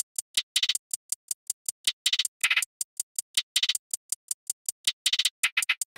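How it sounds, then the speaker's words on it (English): A drum loop in a music production project plays alone: crisp, bright hits in a steady tight rhythm, with quick clustered rolls between single strikes, clear and close. "So you have a drum loop in your project."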